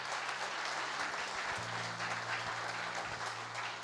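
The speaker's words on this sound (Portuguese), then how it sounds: "Pode aplaudir o Senhor." A church congregation applauds steadily, a dense, even patter of many hands clapping that holds for the full few seconds, heard from within the room at low overall level with a faint hum underneath.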